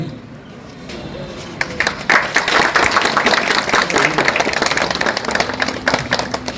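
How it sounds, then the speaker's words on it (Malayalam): An audience at a church honouring ceremony breaks into warm applause, the clapping swelling after a quiet opening and continuing as a dense, loud, sustained wash to the end. "നമുക്ക് നന്നായിട്ട് കൈയടിച്ച് ഈ സ്നേഹം നമുക്ക് പങ്കുവയ്ക്കാം."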